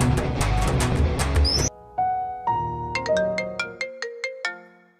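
A mobile phone rings for an incoming call: a loud, close burst of noise cuts off, then a bright electronic tone plays a rising series of short chiming notes in a regular pattern.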